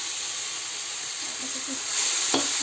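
An egg frying in hot oil in a wok, a steady loud sizzle with brief stirring scrapes and a sharp clack near the end.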